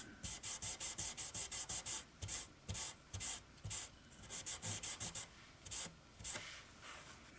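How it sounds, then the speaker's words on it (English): A rag soaked in acetone is rubbed quickly back and forth over a guitar fretboard to wipe off excess fret glue. The close, scratchy strokes come in rapid bursts, then slow to irregular wipes with short pauses between them. "this is some acetone and a rag. And we're going to clean that excess glue off of there."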